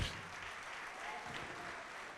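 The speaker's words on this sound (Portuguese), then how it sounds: "Vamos aplaudir mais ao nome do Senhor." A church congregation applauds steadily, a dense, even wash of many hands clapping close by with little variation in loudness.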